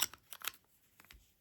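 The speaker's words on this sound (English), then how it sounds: "And now I'm just gonna trim my thread," Two or three quick, faint snips of small scissors cutting beading thread close by, followed by a soft click, in a quiet room with no talking.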